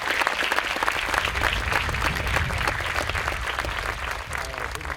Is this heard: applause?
yes